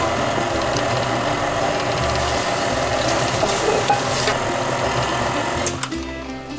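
A KitchenAid stand mixer whirs continuously as it mashes boiled potatoes with butter, a close, loud mechanical drone with rattling clicks that steadies, then drops away near the end, with no talking.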